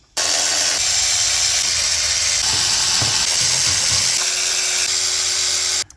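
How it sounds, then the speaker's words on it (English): Power tool spinning out 5/16 valve cover bolts on a 2005-2010 Mustang GT 4.6 3V engine, a loud continuous high-pitched whir held for nearly six seconds with slight load changes, close, no talking. "Now all we gotta do is take the 5/16 bolts out of the valve cover"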